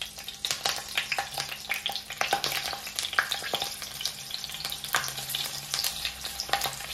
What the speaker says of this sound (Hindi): तेल की मात्रा को कम ही रखना है क्योंकि हमने शिमला मिर्च को शैलो फ्राई करना है